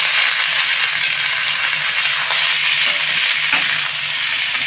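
Chopped snake gourd tipped into hot oil with whole cumin and two dried red chillies, giving a steady, loud, close sizzle with faint scattered crackles throughout and no talk.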